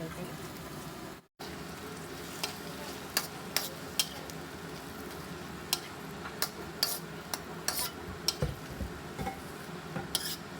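Finely chopped tomatoes go into a hot pan for pasta and are stirred, giving a steady low sizzle with repeated sharp clicks and scrapes of a spoon against the pan. A short silent gap comes near the start.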